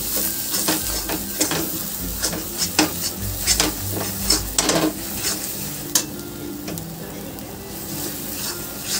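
Pointed gourd being stirred with salt and turmeric in a pan, making repeated scraping, clinking strokes of the spoon against the pan over a soft, steady sizzle, close up.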